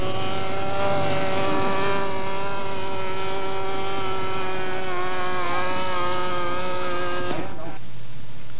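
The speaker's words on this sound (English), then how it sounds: "The airplane flies on a 15-size model airplane motor" Small balsa-wood model airplane on a 15-size glow motor buzzing steadily at high pitch for about seven seconds, loud and close, then cutting off abruptly into quiet background.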